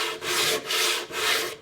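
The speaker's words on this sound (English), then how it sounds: "So you would take sanding paper, and these are sanding blocks." Rough wood being sanded by hand with sandpaper on a sanding block: three close, steady back-and-forth rasping strokes with short pauses between them, and no voices.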